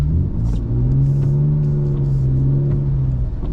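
A BMW E39's engine hums and revs in a sustained, close, loud drone while drifting on snowy roads in a blizzard, the pitch holding steady with slight rises and no voices.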